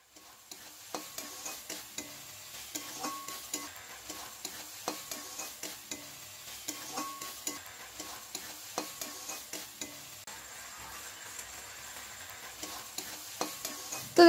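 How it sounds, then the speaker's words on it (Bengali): Snails and potatoes with spices being stirred and fried in a pan: a steady sizzle runs throughout, broken by regular scraping taps of the spoon against the pan, close and alone with no talk. "এবার আমি এতে ভেজে রাখা গুগলি আর আলুগুলো দিয়ে দিচ্ছি, দিয়ে একটু ভালো করে নাড়িয়ে কষিয়ে নিচ্ছি 10 মিনিটের মতো।"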